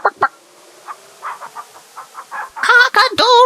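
A chicken in King's Quest III Redux clucks in a string of short, clipped bursts, then breaks into louder, drawn-out squawking calls near the end; no talk.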